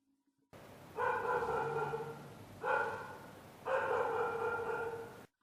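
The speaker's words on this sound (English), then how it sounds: "It's a dog." Three loud barks from a dog ring out in separate bursts, close to the microphone, with short pauses between them and no talking.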